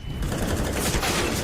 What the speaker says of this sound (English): Linus, Yuri just walks right into the bullets.